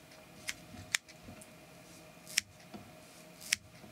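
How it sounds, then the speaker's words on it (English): Scissors snip during fly tying for a Red Head Bomber fishing fly, about four or five sharp, isolated clicks close up against a quiet room hum. "I'm holding the scissors on an angle when I come in."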